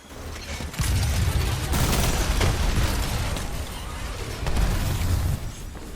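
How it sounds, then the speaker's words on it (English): Enemy gunfire in Apex Legends roars as a loud, dense, sustained barrage of shots and blasts with deep booming surges, cresting twice and barely easing. "They're shooting at me."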